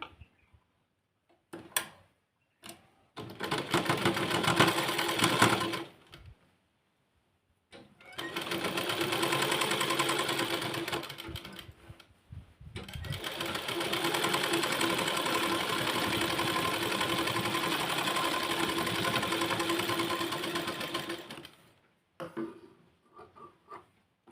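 A sewing machine stitches a hook strip on fabric: a few brief taps, then a short whirring run, and two long steady runs of rapid mechanical stitching, close and loud, separated by pauses.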